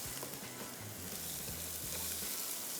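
Onion and garlic fry in a pan, giving a soft continuous sizzle at low volume with light rhythmic stirring underneath and no voices.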